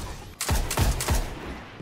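Gunfire in a Destiny Trials of Osiris match: three sharp, loud bursts in quick succession, each with a booming low tail, then a fading rumble with no talk.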